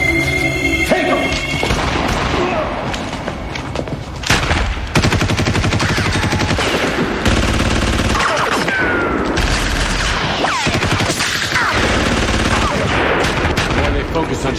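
Heavy gunfire in a shootout from a TV drama: dense, continuous bursts of rapid shots and booms, loud and close, with crashes and thuds mixed in and almost no pause throughout.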